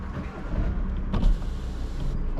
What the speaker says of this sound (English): I'm just want to open the window